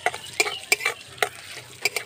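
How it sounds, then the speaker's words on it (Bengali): Chopped ginger frying in mustard oil in a pan, with soft sizzling broken by several sharp scraping stirs of a spoon, close and fairly quiet with no talk. "আদাটাকে একটু ভেজে নেব।"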